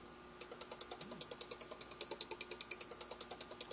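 Rapid, evenly spaced mechanical clicks from a Sonoff micro WiFi smart USB switch relay, about twenty sharp ticks in quick succession after a brief quiet start, close and fairly quiet.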